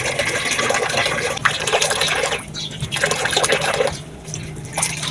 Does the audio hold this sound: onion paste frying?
no